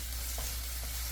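Onion pieces being stirred in hot oil in a pan for japchae, a Korean glass-noodle stir-fry, giving a steady close sizzle with soft scraping stirs and no voices.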